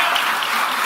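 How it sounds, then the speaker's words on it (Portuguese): A church congregation in Chapecó, SC applauds in a dense, steady wash of many hands clapping together, close and loud, with no pause for the whole moment. "Vamos aplaudir o Senhor."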